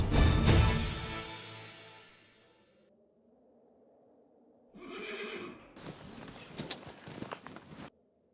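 A horse lets out a loud, trembling neigh that fades, then after a short quiet spell its hooves clip-clop in a steady walking rhythm, close and clear, with no one speaking.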